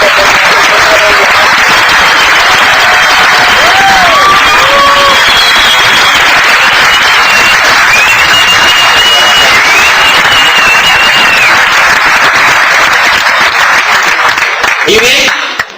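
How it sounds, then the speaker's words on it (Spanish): Loud, continuous applause from a large audience fills the whole stretch and dies away abruptly at the very end, with cheering and voices mixed into the clapping. "yo quiero pedirles para ellos un aplauso de reconocimiento"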